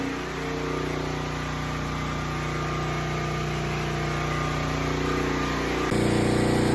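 A 12,000 watt generator runs at a steady, even hum with a constant droning pitch, loud and close, shifting slightly in tone near the end, with no talk over it.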